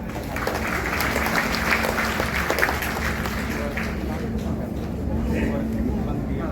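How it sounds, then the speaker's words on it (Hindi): Continuous audience clapping in an indoor gathering, given in honor of LIC, steady and dense at moderate loudness, with voices murmuring underneath. "LIC के लिए हम लोग फिर ताली दें"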